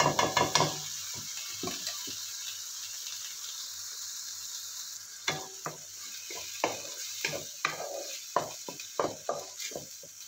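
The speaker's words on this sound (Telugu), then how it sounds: "పచ్చి వాసన పోయే వరకు వేపాలండి" Thick masala paste frying in oil in a pan for okra masala pulusu, with a steady soft sizzle broken by repeated scraping and stirring strokes, clustered toward the end.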